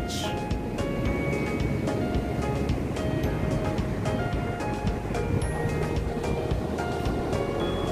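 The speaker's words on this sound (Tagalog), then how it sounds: "Yo, yan ang Pacific Ocean guys. Na talaga ang linis. Tamang-tama lang ang laki ng alon." Pacific Ocean surf breaks on Araw Beach in a loud, continuous wash of waves, with some wind buffeting the microphone the whole way through.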